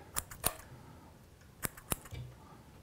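Scissors snip fly-tying thread at a tying bench: four sharp, quiet clicks in two pairs, close by and alone, with no talking.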